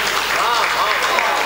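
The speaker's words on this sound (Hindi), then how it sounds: "तालियां कमजोर हैं आपकी।" Sustained crowd applause at a Hindi-Urdu poetry recital, a dense, steady wash of many hands clapping close by, with voices faintly mixed in throughout.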